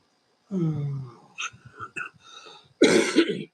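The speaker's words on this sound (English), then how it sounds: "This cough won't go away." A few rough coughs and throat-clearing sounds, close by, with a harsh burst of coughing at the end.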